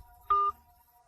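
A telephone number being dialed, heard as a single steady touch-tone beep of about a fifth of a second, clear and close over a quiet background.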